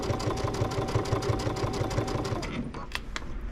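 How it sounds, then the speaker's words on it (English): Long-arm quilting machine stitching a baby quilt, a rapid even run of needle strokes that stops about two-thirds through, followed by a few brief clicks and light handling sounds. "Do a back stitch. I just do a 1 stitch back stitch there."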